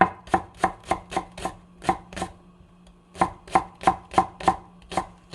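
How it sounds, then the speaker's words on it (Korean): Green onions chopped finely with a knife on a board, a quick run of sharp rhythmic taps in two bursts separated by a short pause, close and clear with no talking. "파는 그냥 이제 이렇게 송송 다져주세요"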